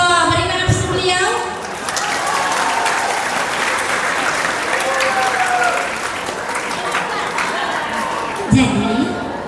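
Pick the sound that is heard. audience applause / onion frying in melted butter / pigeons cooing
audience applause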